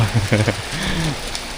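Heavy rain pours steadily over Siam Square in Bangkok, a dense hiss across the whole moment, while a voice speaks briefly near the start and another speaks closer by under the downpour.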